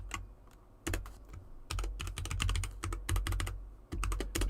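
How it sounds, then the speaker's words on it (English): A password being typed on a computer keyboard under Linux: bursts of close, crisp key clicks in uneven runs, pausing briefly between groups, with no voices. "So stuff is being typed in."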